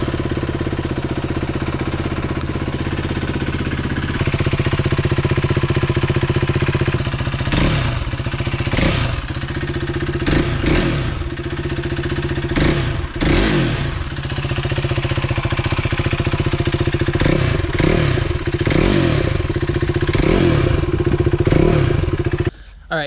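The engine of a 2016 KTM 390 Duke motorcycle idles with a steady, close low rumble. Several revving blips and clattering thumps rise above the idle partway through, and the engine cuts off abruptly at the end.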